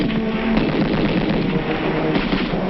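Sustained gunfire in 1950s Korean War newsreel footage, a dense, continuous roar of shots at steady loudness with no talk over it.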